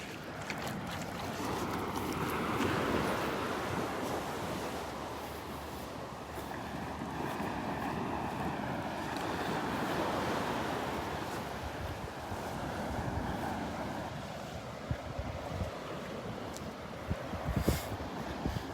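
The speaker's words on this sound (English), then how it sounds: "the wind is blowing offshore, so that's a good thing" Steady offshore wind and breaking surf on the beach at Delnor-Wiggins, a continuous broadband wash with rolling swells of wave noise and wind buffeting the microphone, with no one talking.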